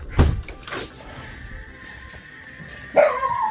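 Puppies in a puppy pen give a couple of sharp yips early on, followed by a quieter stretch and a louder bark or squeal near the end, with no talking.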